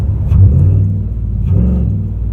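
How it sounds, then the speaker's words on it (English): A modified 2001 Ford E350 Super Duty van engine revs twice through its exhaust, two deep, throaty rumbling bursts close by. "I'll give them a couple gooses from the exhaust system"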